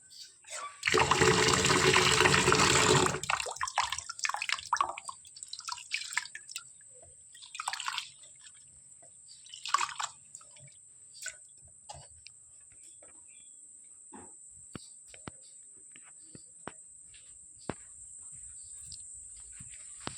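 Water from rinsing rice and lentils for khichuri is poured out in a loud splashing gush for about three seconds, followed by scattered soft drips and faint insect chirps in a quiet setting.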